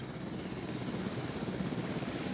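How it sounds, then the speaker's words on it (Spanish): Two helicopters in the Jurassic World Evolution video game, a steady loud rotor thrum with dense chopping pulses that holds evenly and close throughout, with no voices over it. "Ahí tenemos los dos helicópteros, bien guapos."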